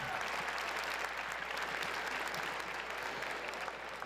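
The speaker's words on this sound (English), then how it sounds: "let's give one more round of applause to all our amazing faculty and staff" Steady, dense applause from a large audience honoring faculty and staff at a UNLV welcome event, sustained at even strength from start to finish with no voices over it.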